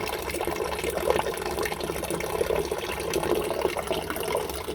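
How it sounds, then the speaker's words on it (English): Cold water running from a tap into a sink, a steady close splashing rush that holds at constant loudness throughout with no talking. "So I'm putting in a sink of cold water now to cool it down as quick as possible."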